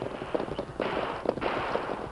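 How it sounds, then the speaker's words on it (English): A burst of gunfire from a Western radio drama crackles in quick, uneven pops, several shots overlapping against a noisy background. "Hear that gunfire, Tonto?"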